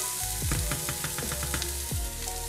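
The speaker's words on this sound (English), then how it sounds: "We're gonna cook these onions for about 5 minutes." Onions frying in olive oil in a pot over medium-high heat, a steady close sizzle and crackle with a few stirring scrapes, no talking.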